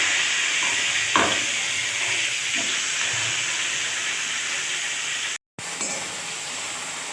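Onions hiss and sizzle steadily after being dropped into hot oil in a home kitchen pan, a broad, even frying noise with a few faint utensil knocks and a brief cut in the middle.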